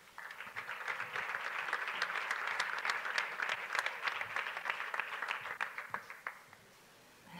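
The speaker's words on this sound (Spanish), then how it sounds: "Fuerte aplauso para ellas." Audience applause at a Liga Femenina Endesa women's basketball season presentation, a dense roomful of clapping that builds, holds steady for several seconds, then fades out near the end.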